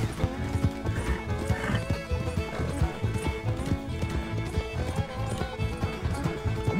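A horse gallops at a steady pace in Red Dead Redemption, rhythmic close hoofbeats thudding in quick repeated groups with tack jingling, loud and continuous with no talk over it.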